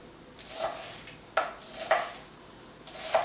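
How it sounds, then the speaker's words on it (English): A knife cutting through pineapple on a cutting board for pineapple jam, a few sharp, close knocks spaced unevenly in a quiet kitchen with no talking. "And we'll finish chopping this up."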